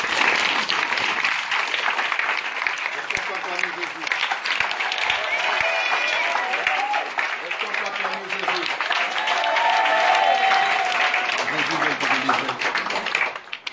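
A church congregation at an evening deliverance vigil breaks into sustained, loud applause acclaiming Jesus, dense clapping mixed with shouts and voices throughout.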